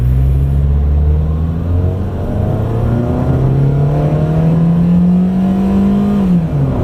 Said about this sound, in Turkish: Tam 6000 devir 6000 devir çeviriyor arkadaşlar. 6000 de atıyor.